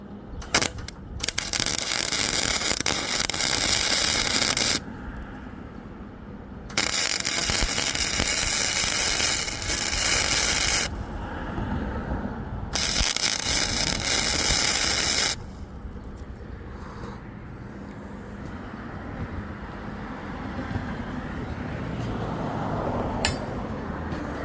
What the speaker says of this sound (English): A little bit of weld right here.